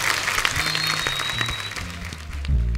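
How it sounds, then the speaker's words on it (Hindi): Studio audience on a Hindi TV comedy talk show claps in steady applause, with music and voices mixed underneath that grow louder toward the end. "एक बार वरुण और दादा के लिए जोरदार तालियां।"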